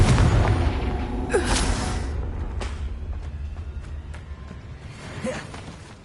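A Confringo spell explosion from Hogwarts Legacy, played on PS5, opens with a loud blast that fades over several seconds, with scattered softer whooshes and impacts following.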